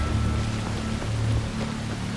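Steady rain in a video game, a continuous broadband hiss of falling drops with a low droning undertone, even in level throughout and with no voices.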